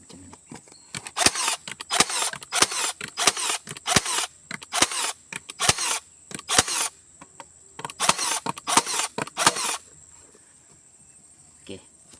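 Cordless brad nailer firing in burst mode: a fast run of sharp, snapping clacks in clusters over about ten seconds, close and fairly loud, with a high steady whine behind them and silence at the end.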